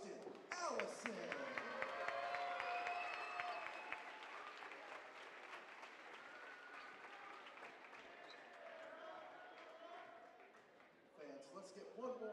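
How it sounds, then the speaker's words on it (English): Crowd applause fills a gym during a University of West Alabama men's basketball game, a sustained wash of clapping that swells and fades, with an announcer speaking over it. "Fans, please put your hands together for number 2, Justin Allison."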